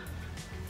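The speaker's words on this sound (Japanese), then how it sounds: "まだねちょっと咳が残ってるんですよね。" A single short cough bursts out at the very end after near silence, close and fairly loud.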